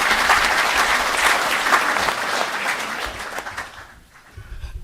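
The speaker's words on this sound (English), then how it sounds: "Can we give them another round of applause?" A business forum audience claps in a dense burst of applause that holds strong for about three seconds, then thins out and fades away.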